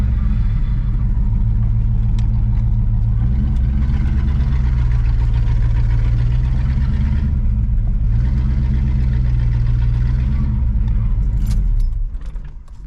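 A 1970 Pontiac Grand Prix engine running after a hot start, a loud steady close idle with a deep rumble that stays even until it drops off near the end.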